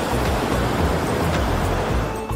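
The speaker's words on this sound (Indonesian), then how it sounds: "suara deburan ombak yang menggelegar banget" Waves crash against the rocky coast at Pantai Timang in Jogja, a loud, steady, roaring wash of surf that fills the whole stretch with no voices.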